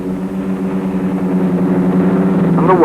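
A Westland Widgeon helicopter flies at the Farnborough air show, giving a loud, steady engine and rotor drone that holds throughout and swells slightly near the end.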